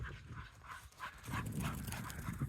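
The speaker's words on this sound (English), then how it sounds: "Here's my dogs having a good time." Dogs playing in a mixed woodland of red maple, yellow poplar and red oak give a few soft yips and whimpering barks, fairly faint and close, in short bursts.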